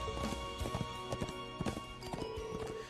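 Quick, rhythmic hoofbeats of a horse in the video game Trails of Cold Steel clatter at a gallop over a faint steady musical background, fairly soft.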